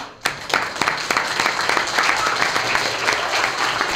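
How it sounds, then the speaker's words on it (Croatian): A presentation audience in Valjevo breaks into applause for an honored guest: a sudden burst of many hands clapping that holds as a lively, steady patter. "još bi jednom voleo da ga pozdravimo aplauzom"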